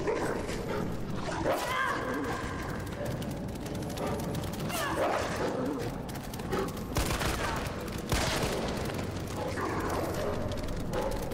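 Dogs bark and yip in Resident Evil 3 gameplay, several short bursts scattered across a dense, loud mix of game noise and clattering mechanisms, with occasional whimpers between.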